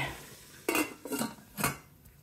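A lid goes onto a pot of cream of leek and potato soup with three quick metallic clatters and knocks, close by, separated by short quiet gaps.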